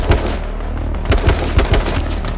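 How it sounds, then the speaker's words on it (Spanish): Gunfire in the battle royale video game H1Z1 crackles in quick bursts, sharp shots popping in uneven clusters over a constant loud game ambience. "me ha pegado dos tiros y me ha matado"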